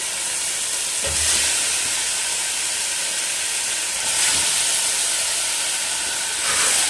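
Pieces of chicken hit hot frying masala in a pan, a loud, steady hiss and sizzle that swells briefly at a few moments as the pan is stirred, close up with no speech.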